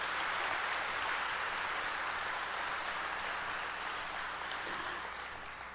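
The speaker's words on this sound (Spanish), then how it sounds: "Dele un aplauso, por favor, por eso." Church congregation applauding in a dense, steady wash of clapping that fills the space, loud at first and slowly tapering toward the end, with no voices over it.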